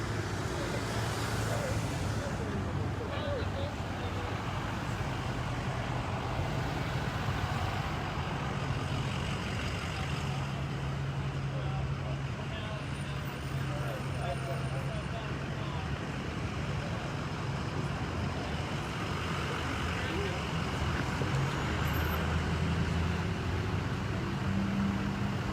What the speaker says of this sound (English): Looked like Guy Fieri was in one of those trucks just now